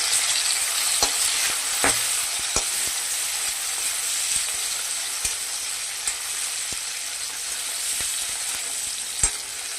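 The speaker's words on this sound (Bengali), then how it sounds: "তারপর দেবো টমেটো কুচি। একটু ভাজা হবে এটা।" Chopped tomatoes fry in a pan with a bay leaf, making a constant hissing sizzle broken by scattered sharp pops and utensil taps over nearly ten seconds, with no talking.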